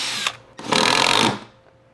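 A power drill bores into a boat hull to mount a puck board: a short whirr first, then a louder sustained high-pitched drilling lasting about half a second before it spins down.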